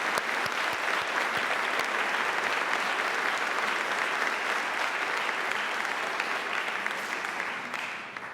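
A crowd at a celebration of second chances breaks into sustained, even applause that holds for several seconds before tapering off at the end.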